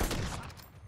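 A sniper rifle fires a single shot in a video game: one loud, close, sharp blast that fades quickly.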